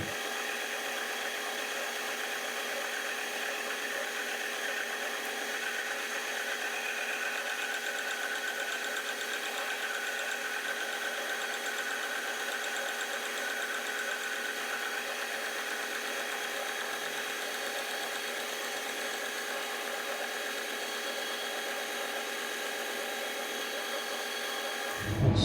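Hafco AL960B milling machine on auto feed cutting a 35-tooth metric gear, a steady, even machining whine with layered tonal hum running unbroken at constant loudness, with no talk, until a brief knock at the very end.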